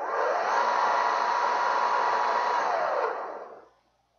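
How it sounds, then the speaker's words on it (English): An electric motor driven by a VESC controller spins up during flux measurement, a steady close whirring whine that holds for about three seconds, then winds down and fades to silence. "Make sure there is nothing on the way of the motor. It is going to spin this time."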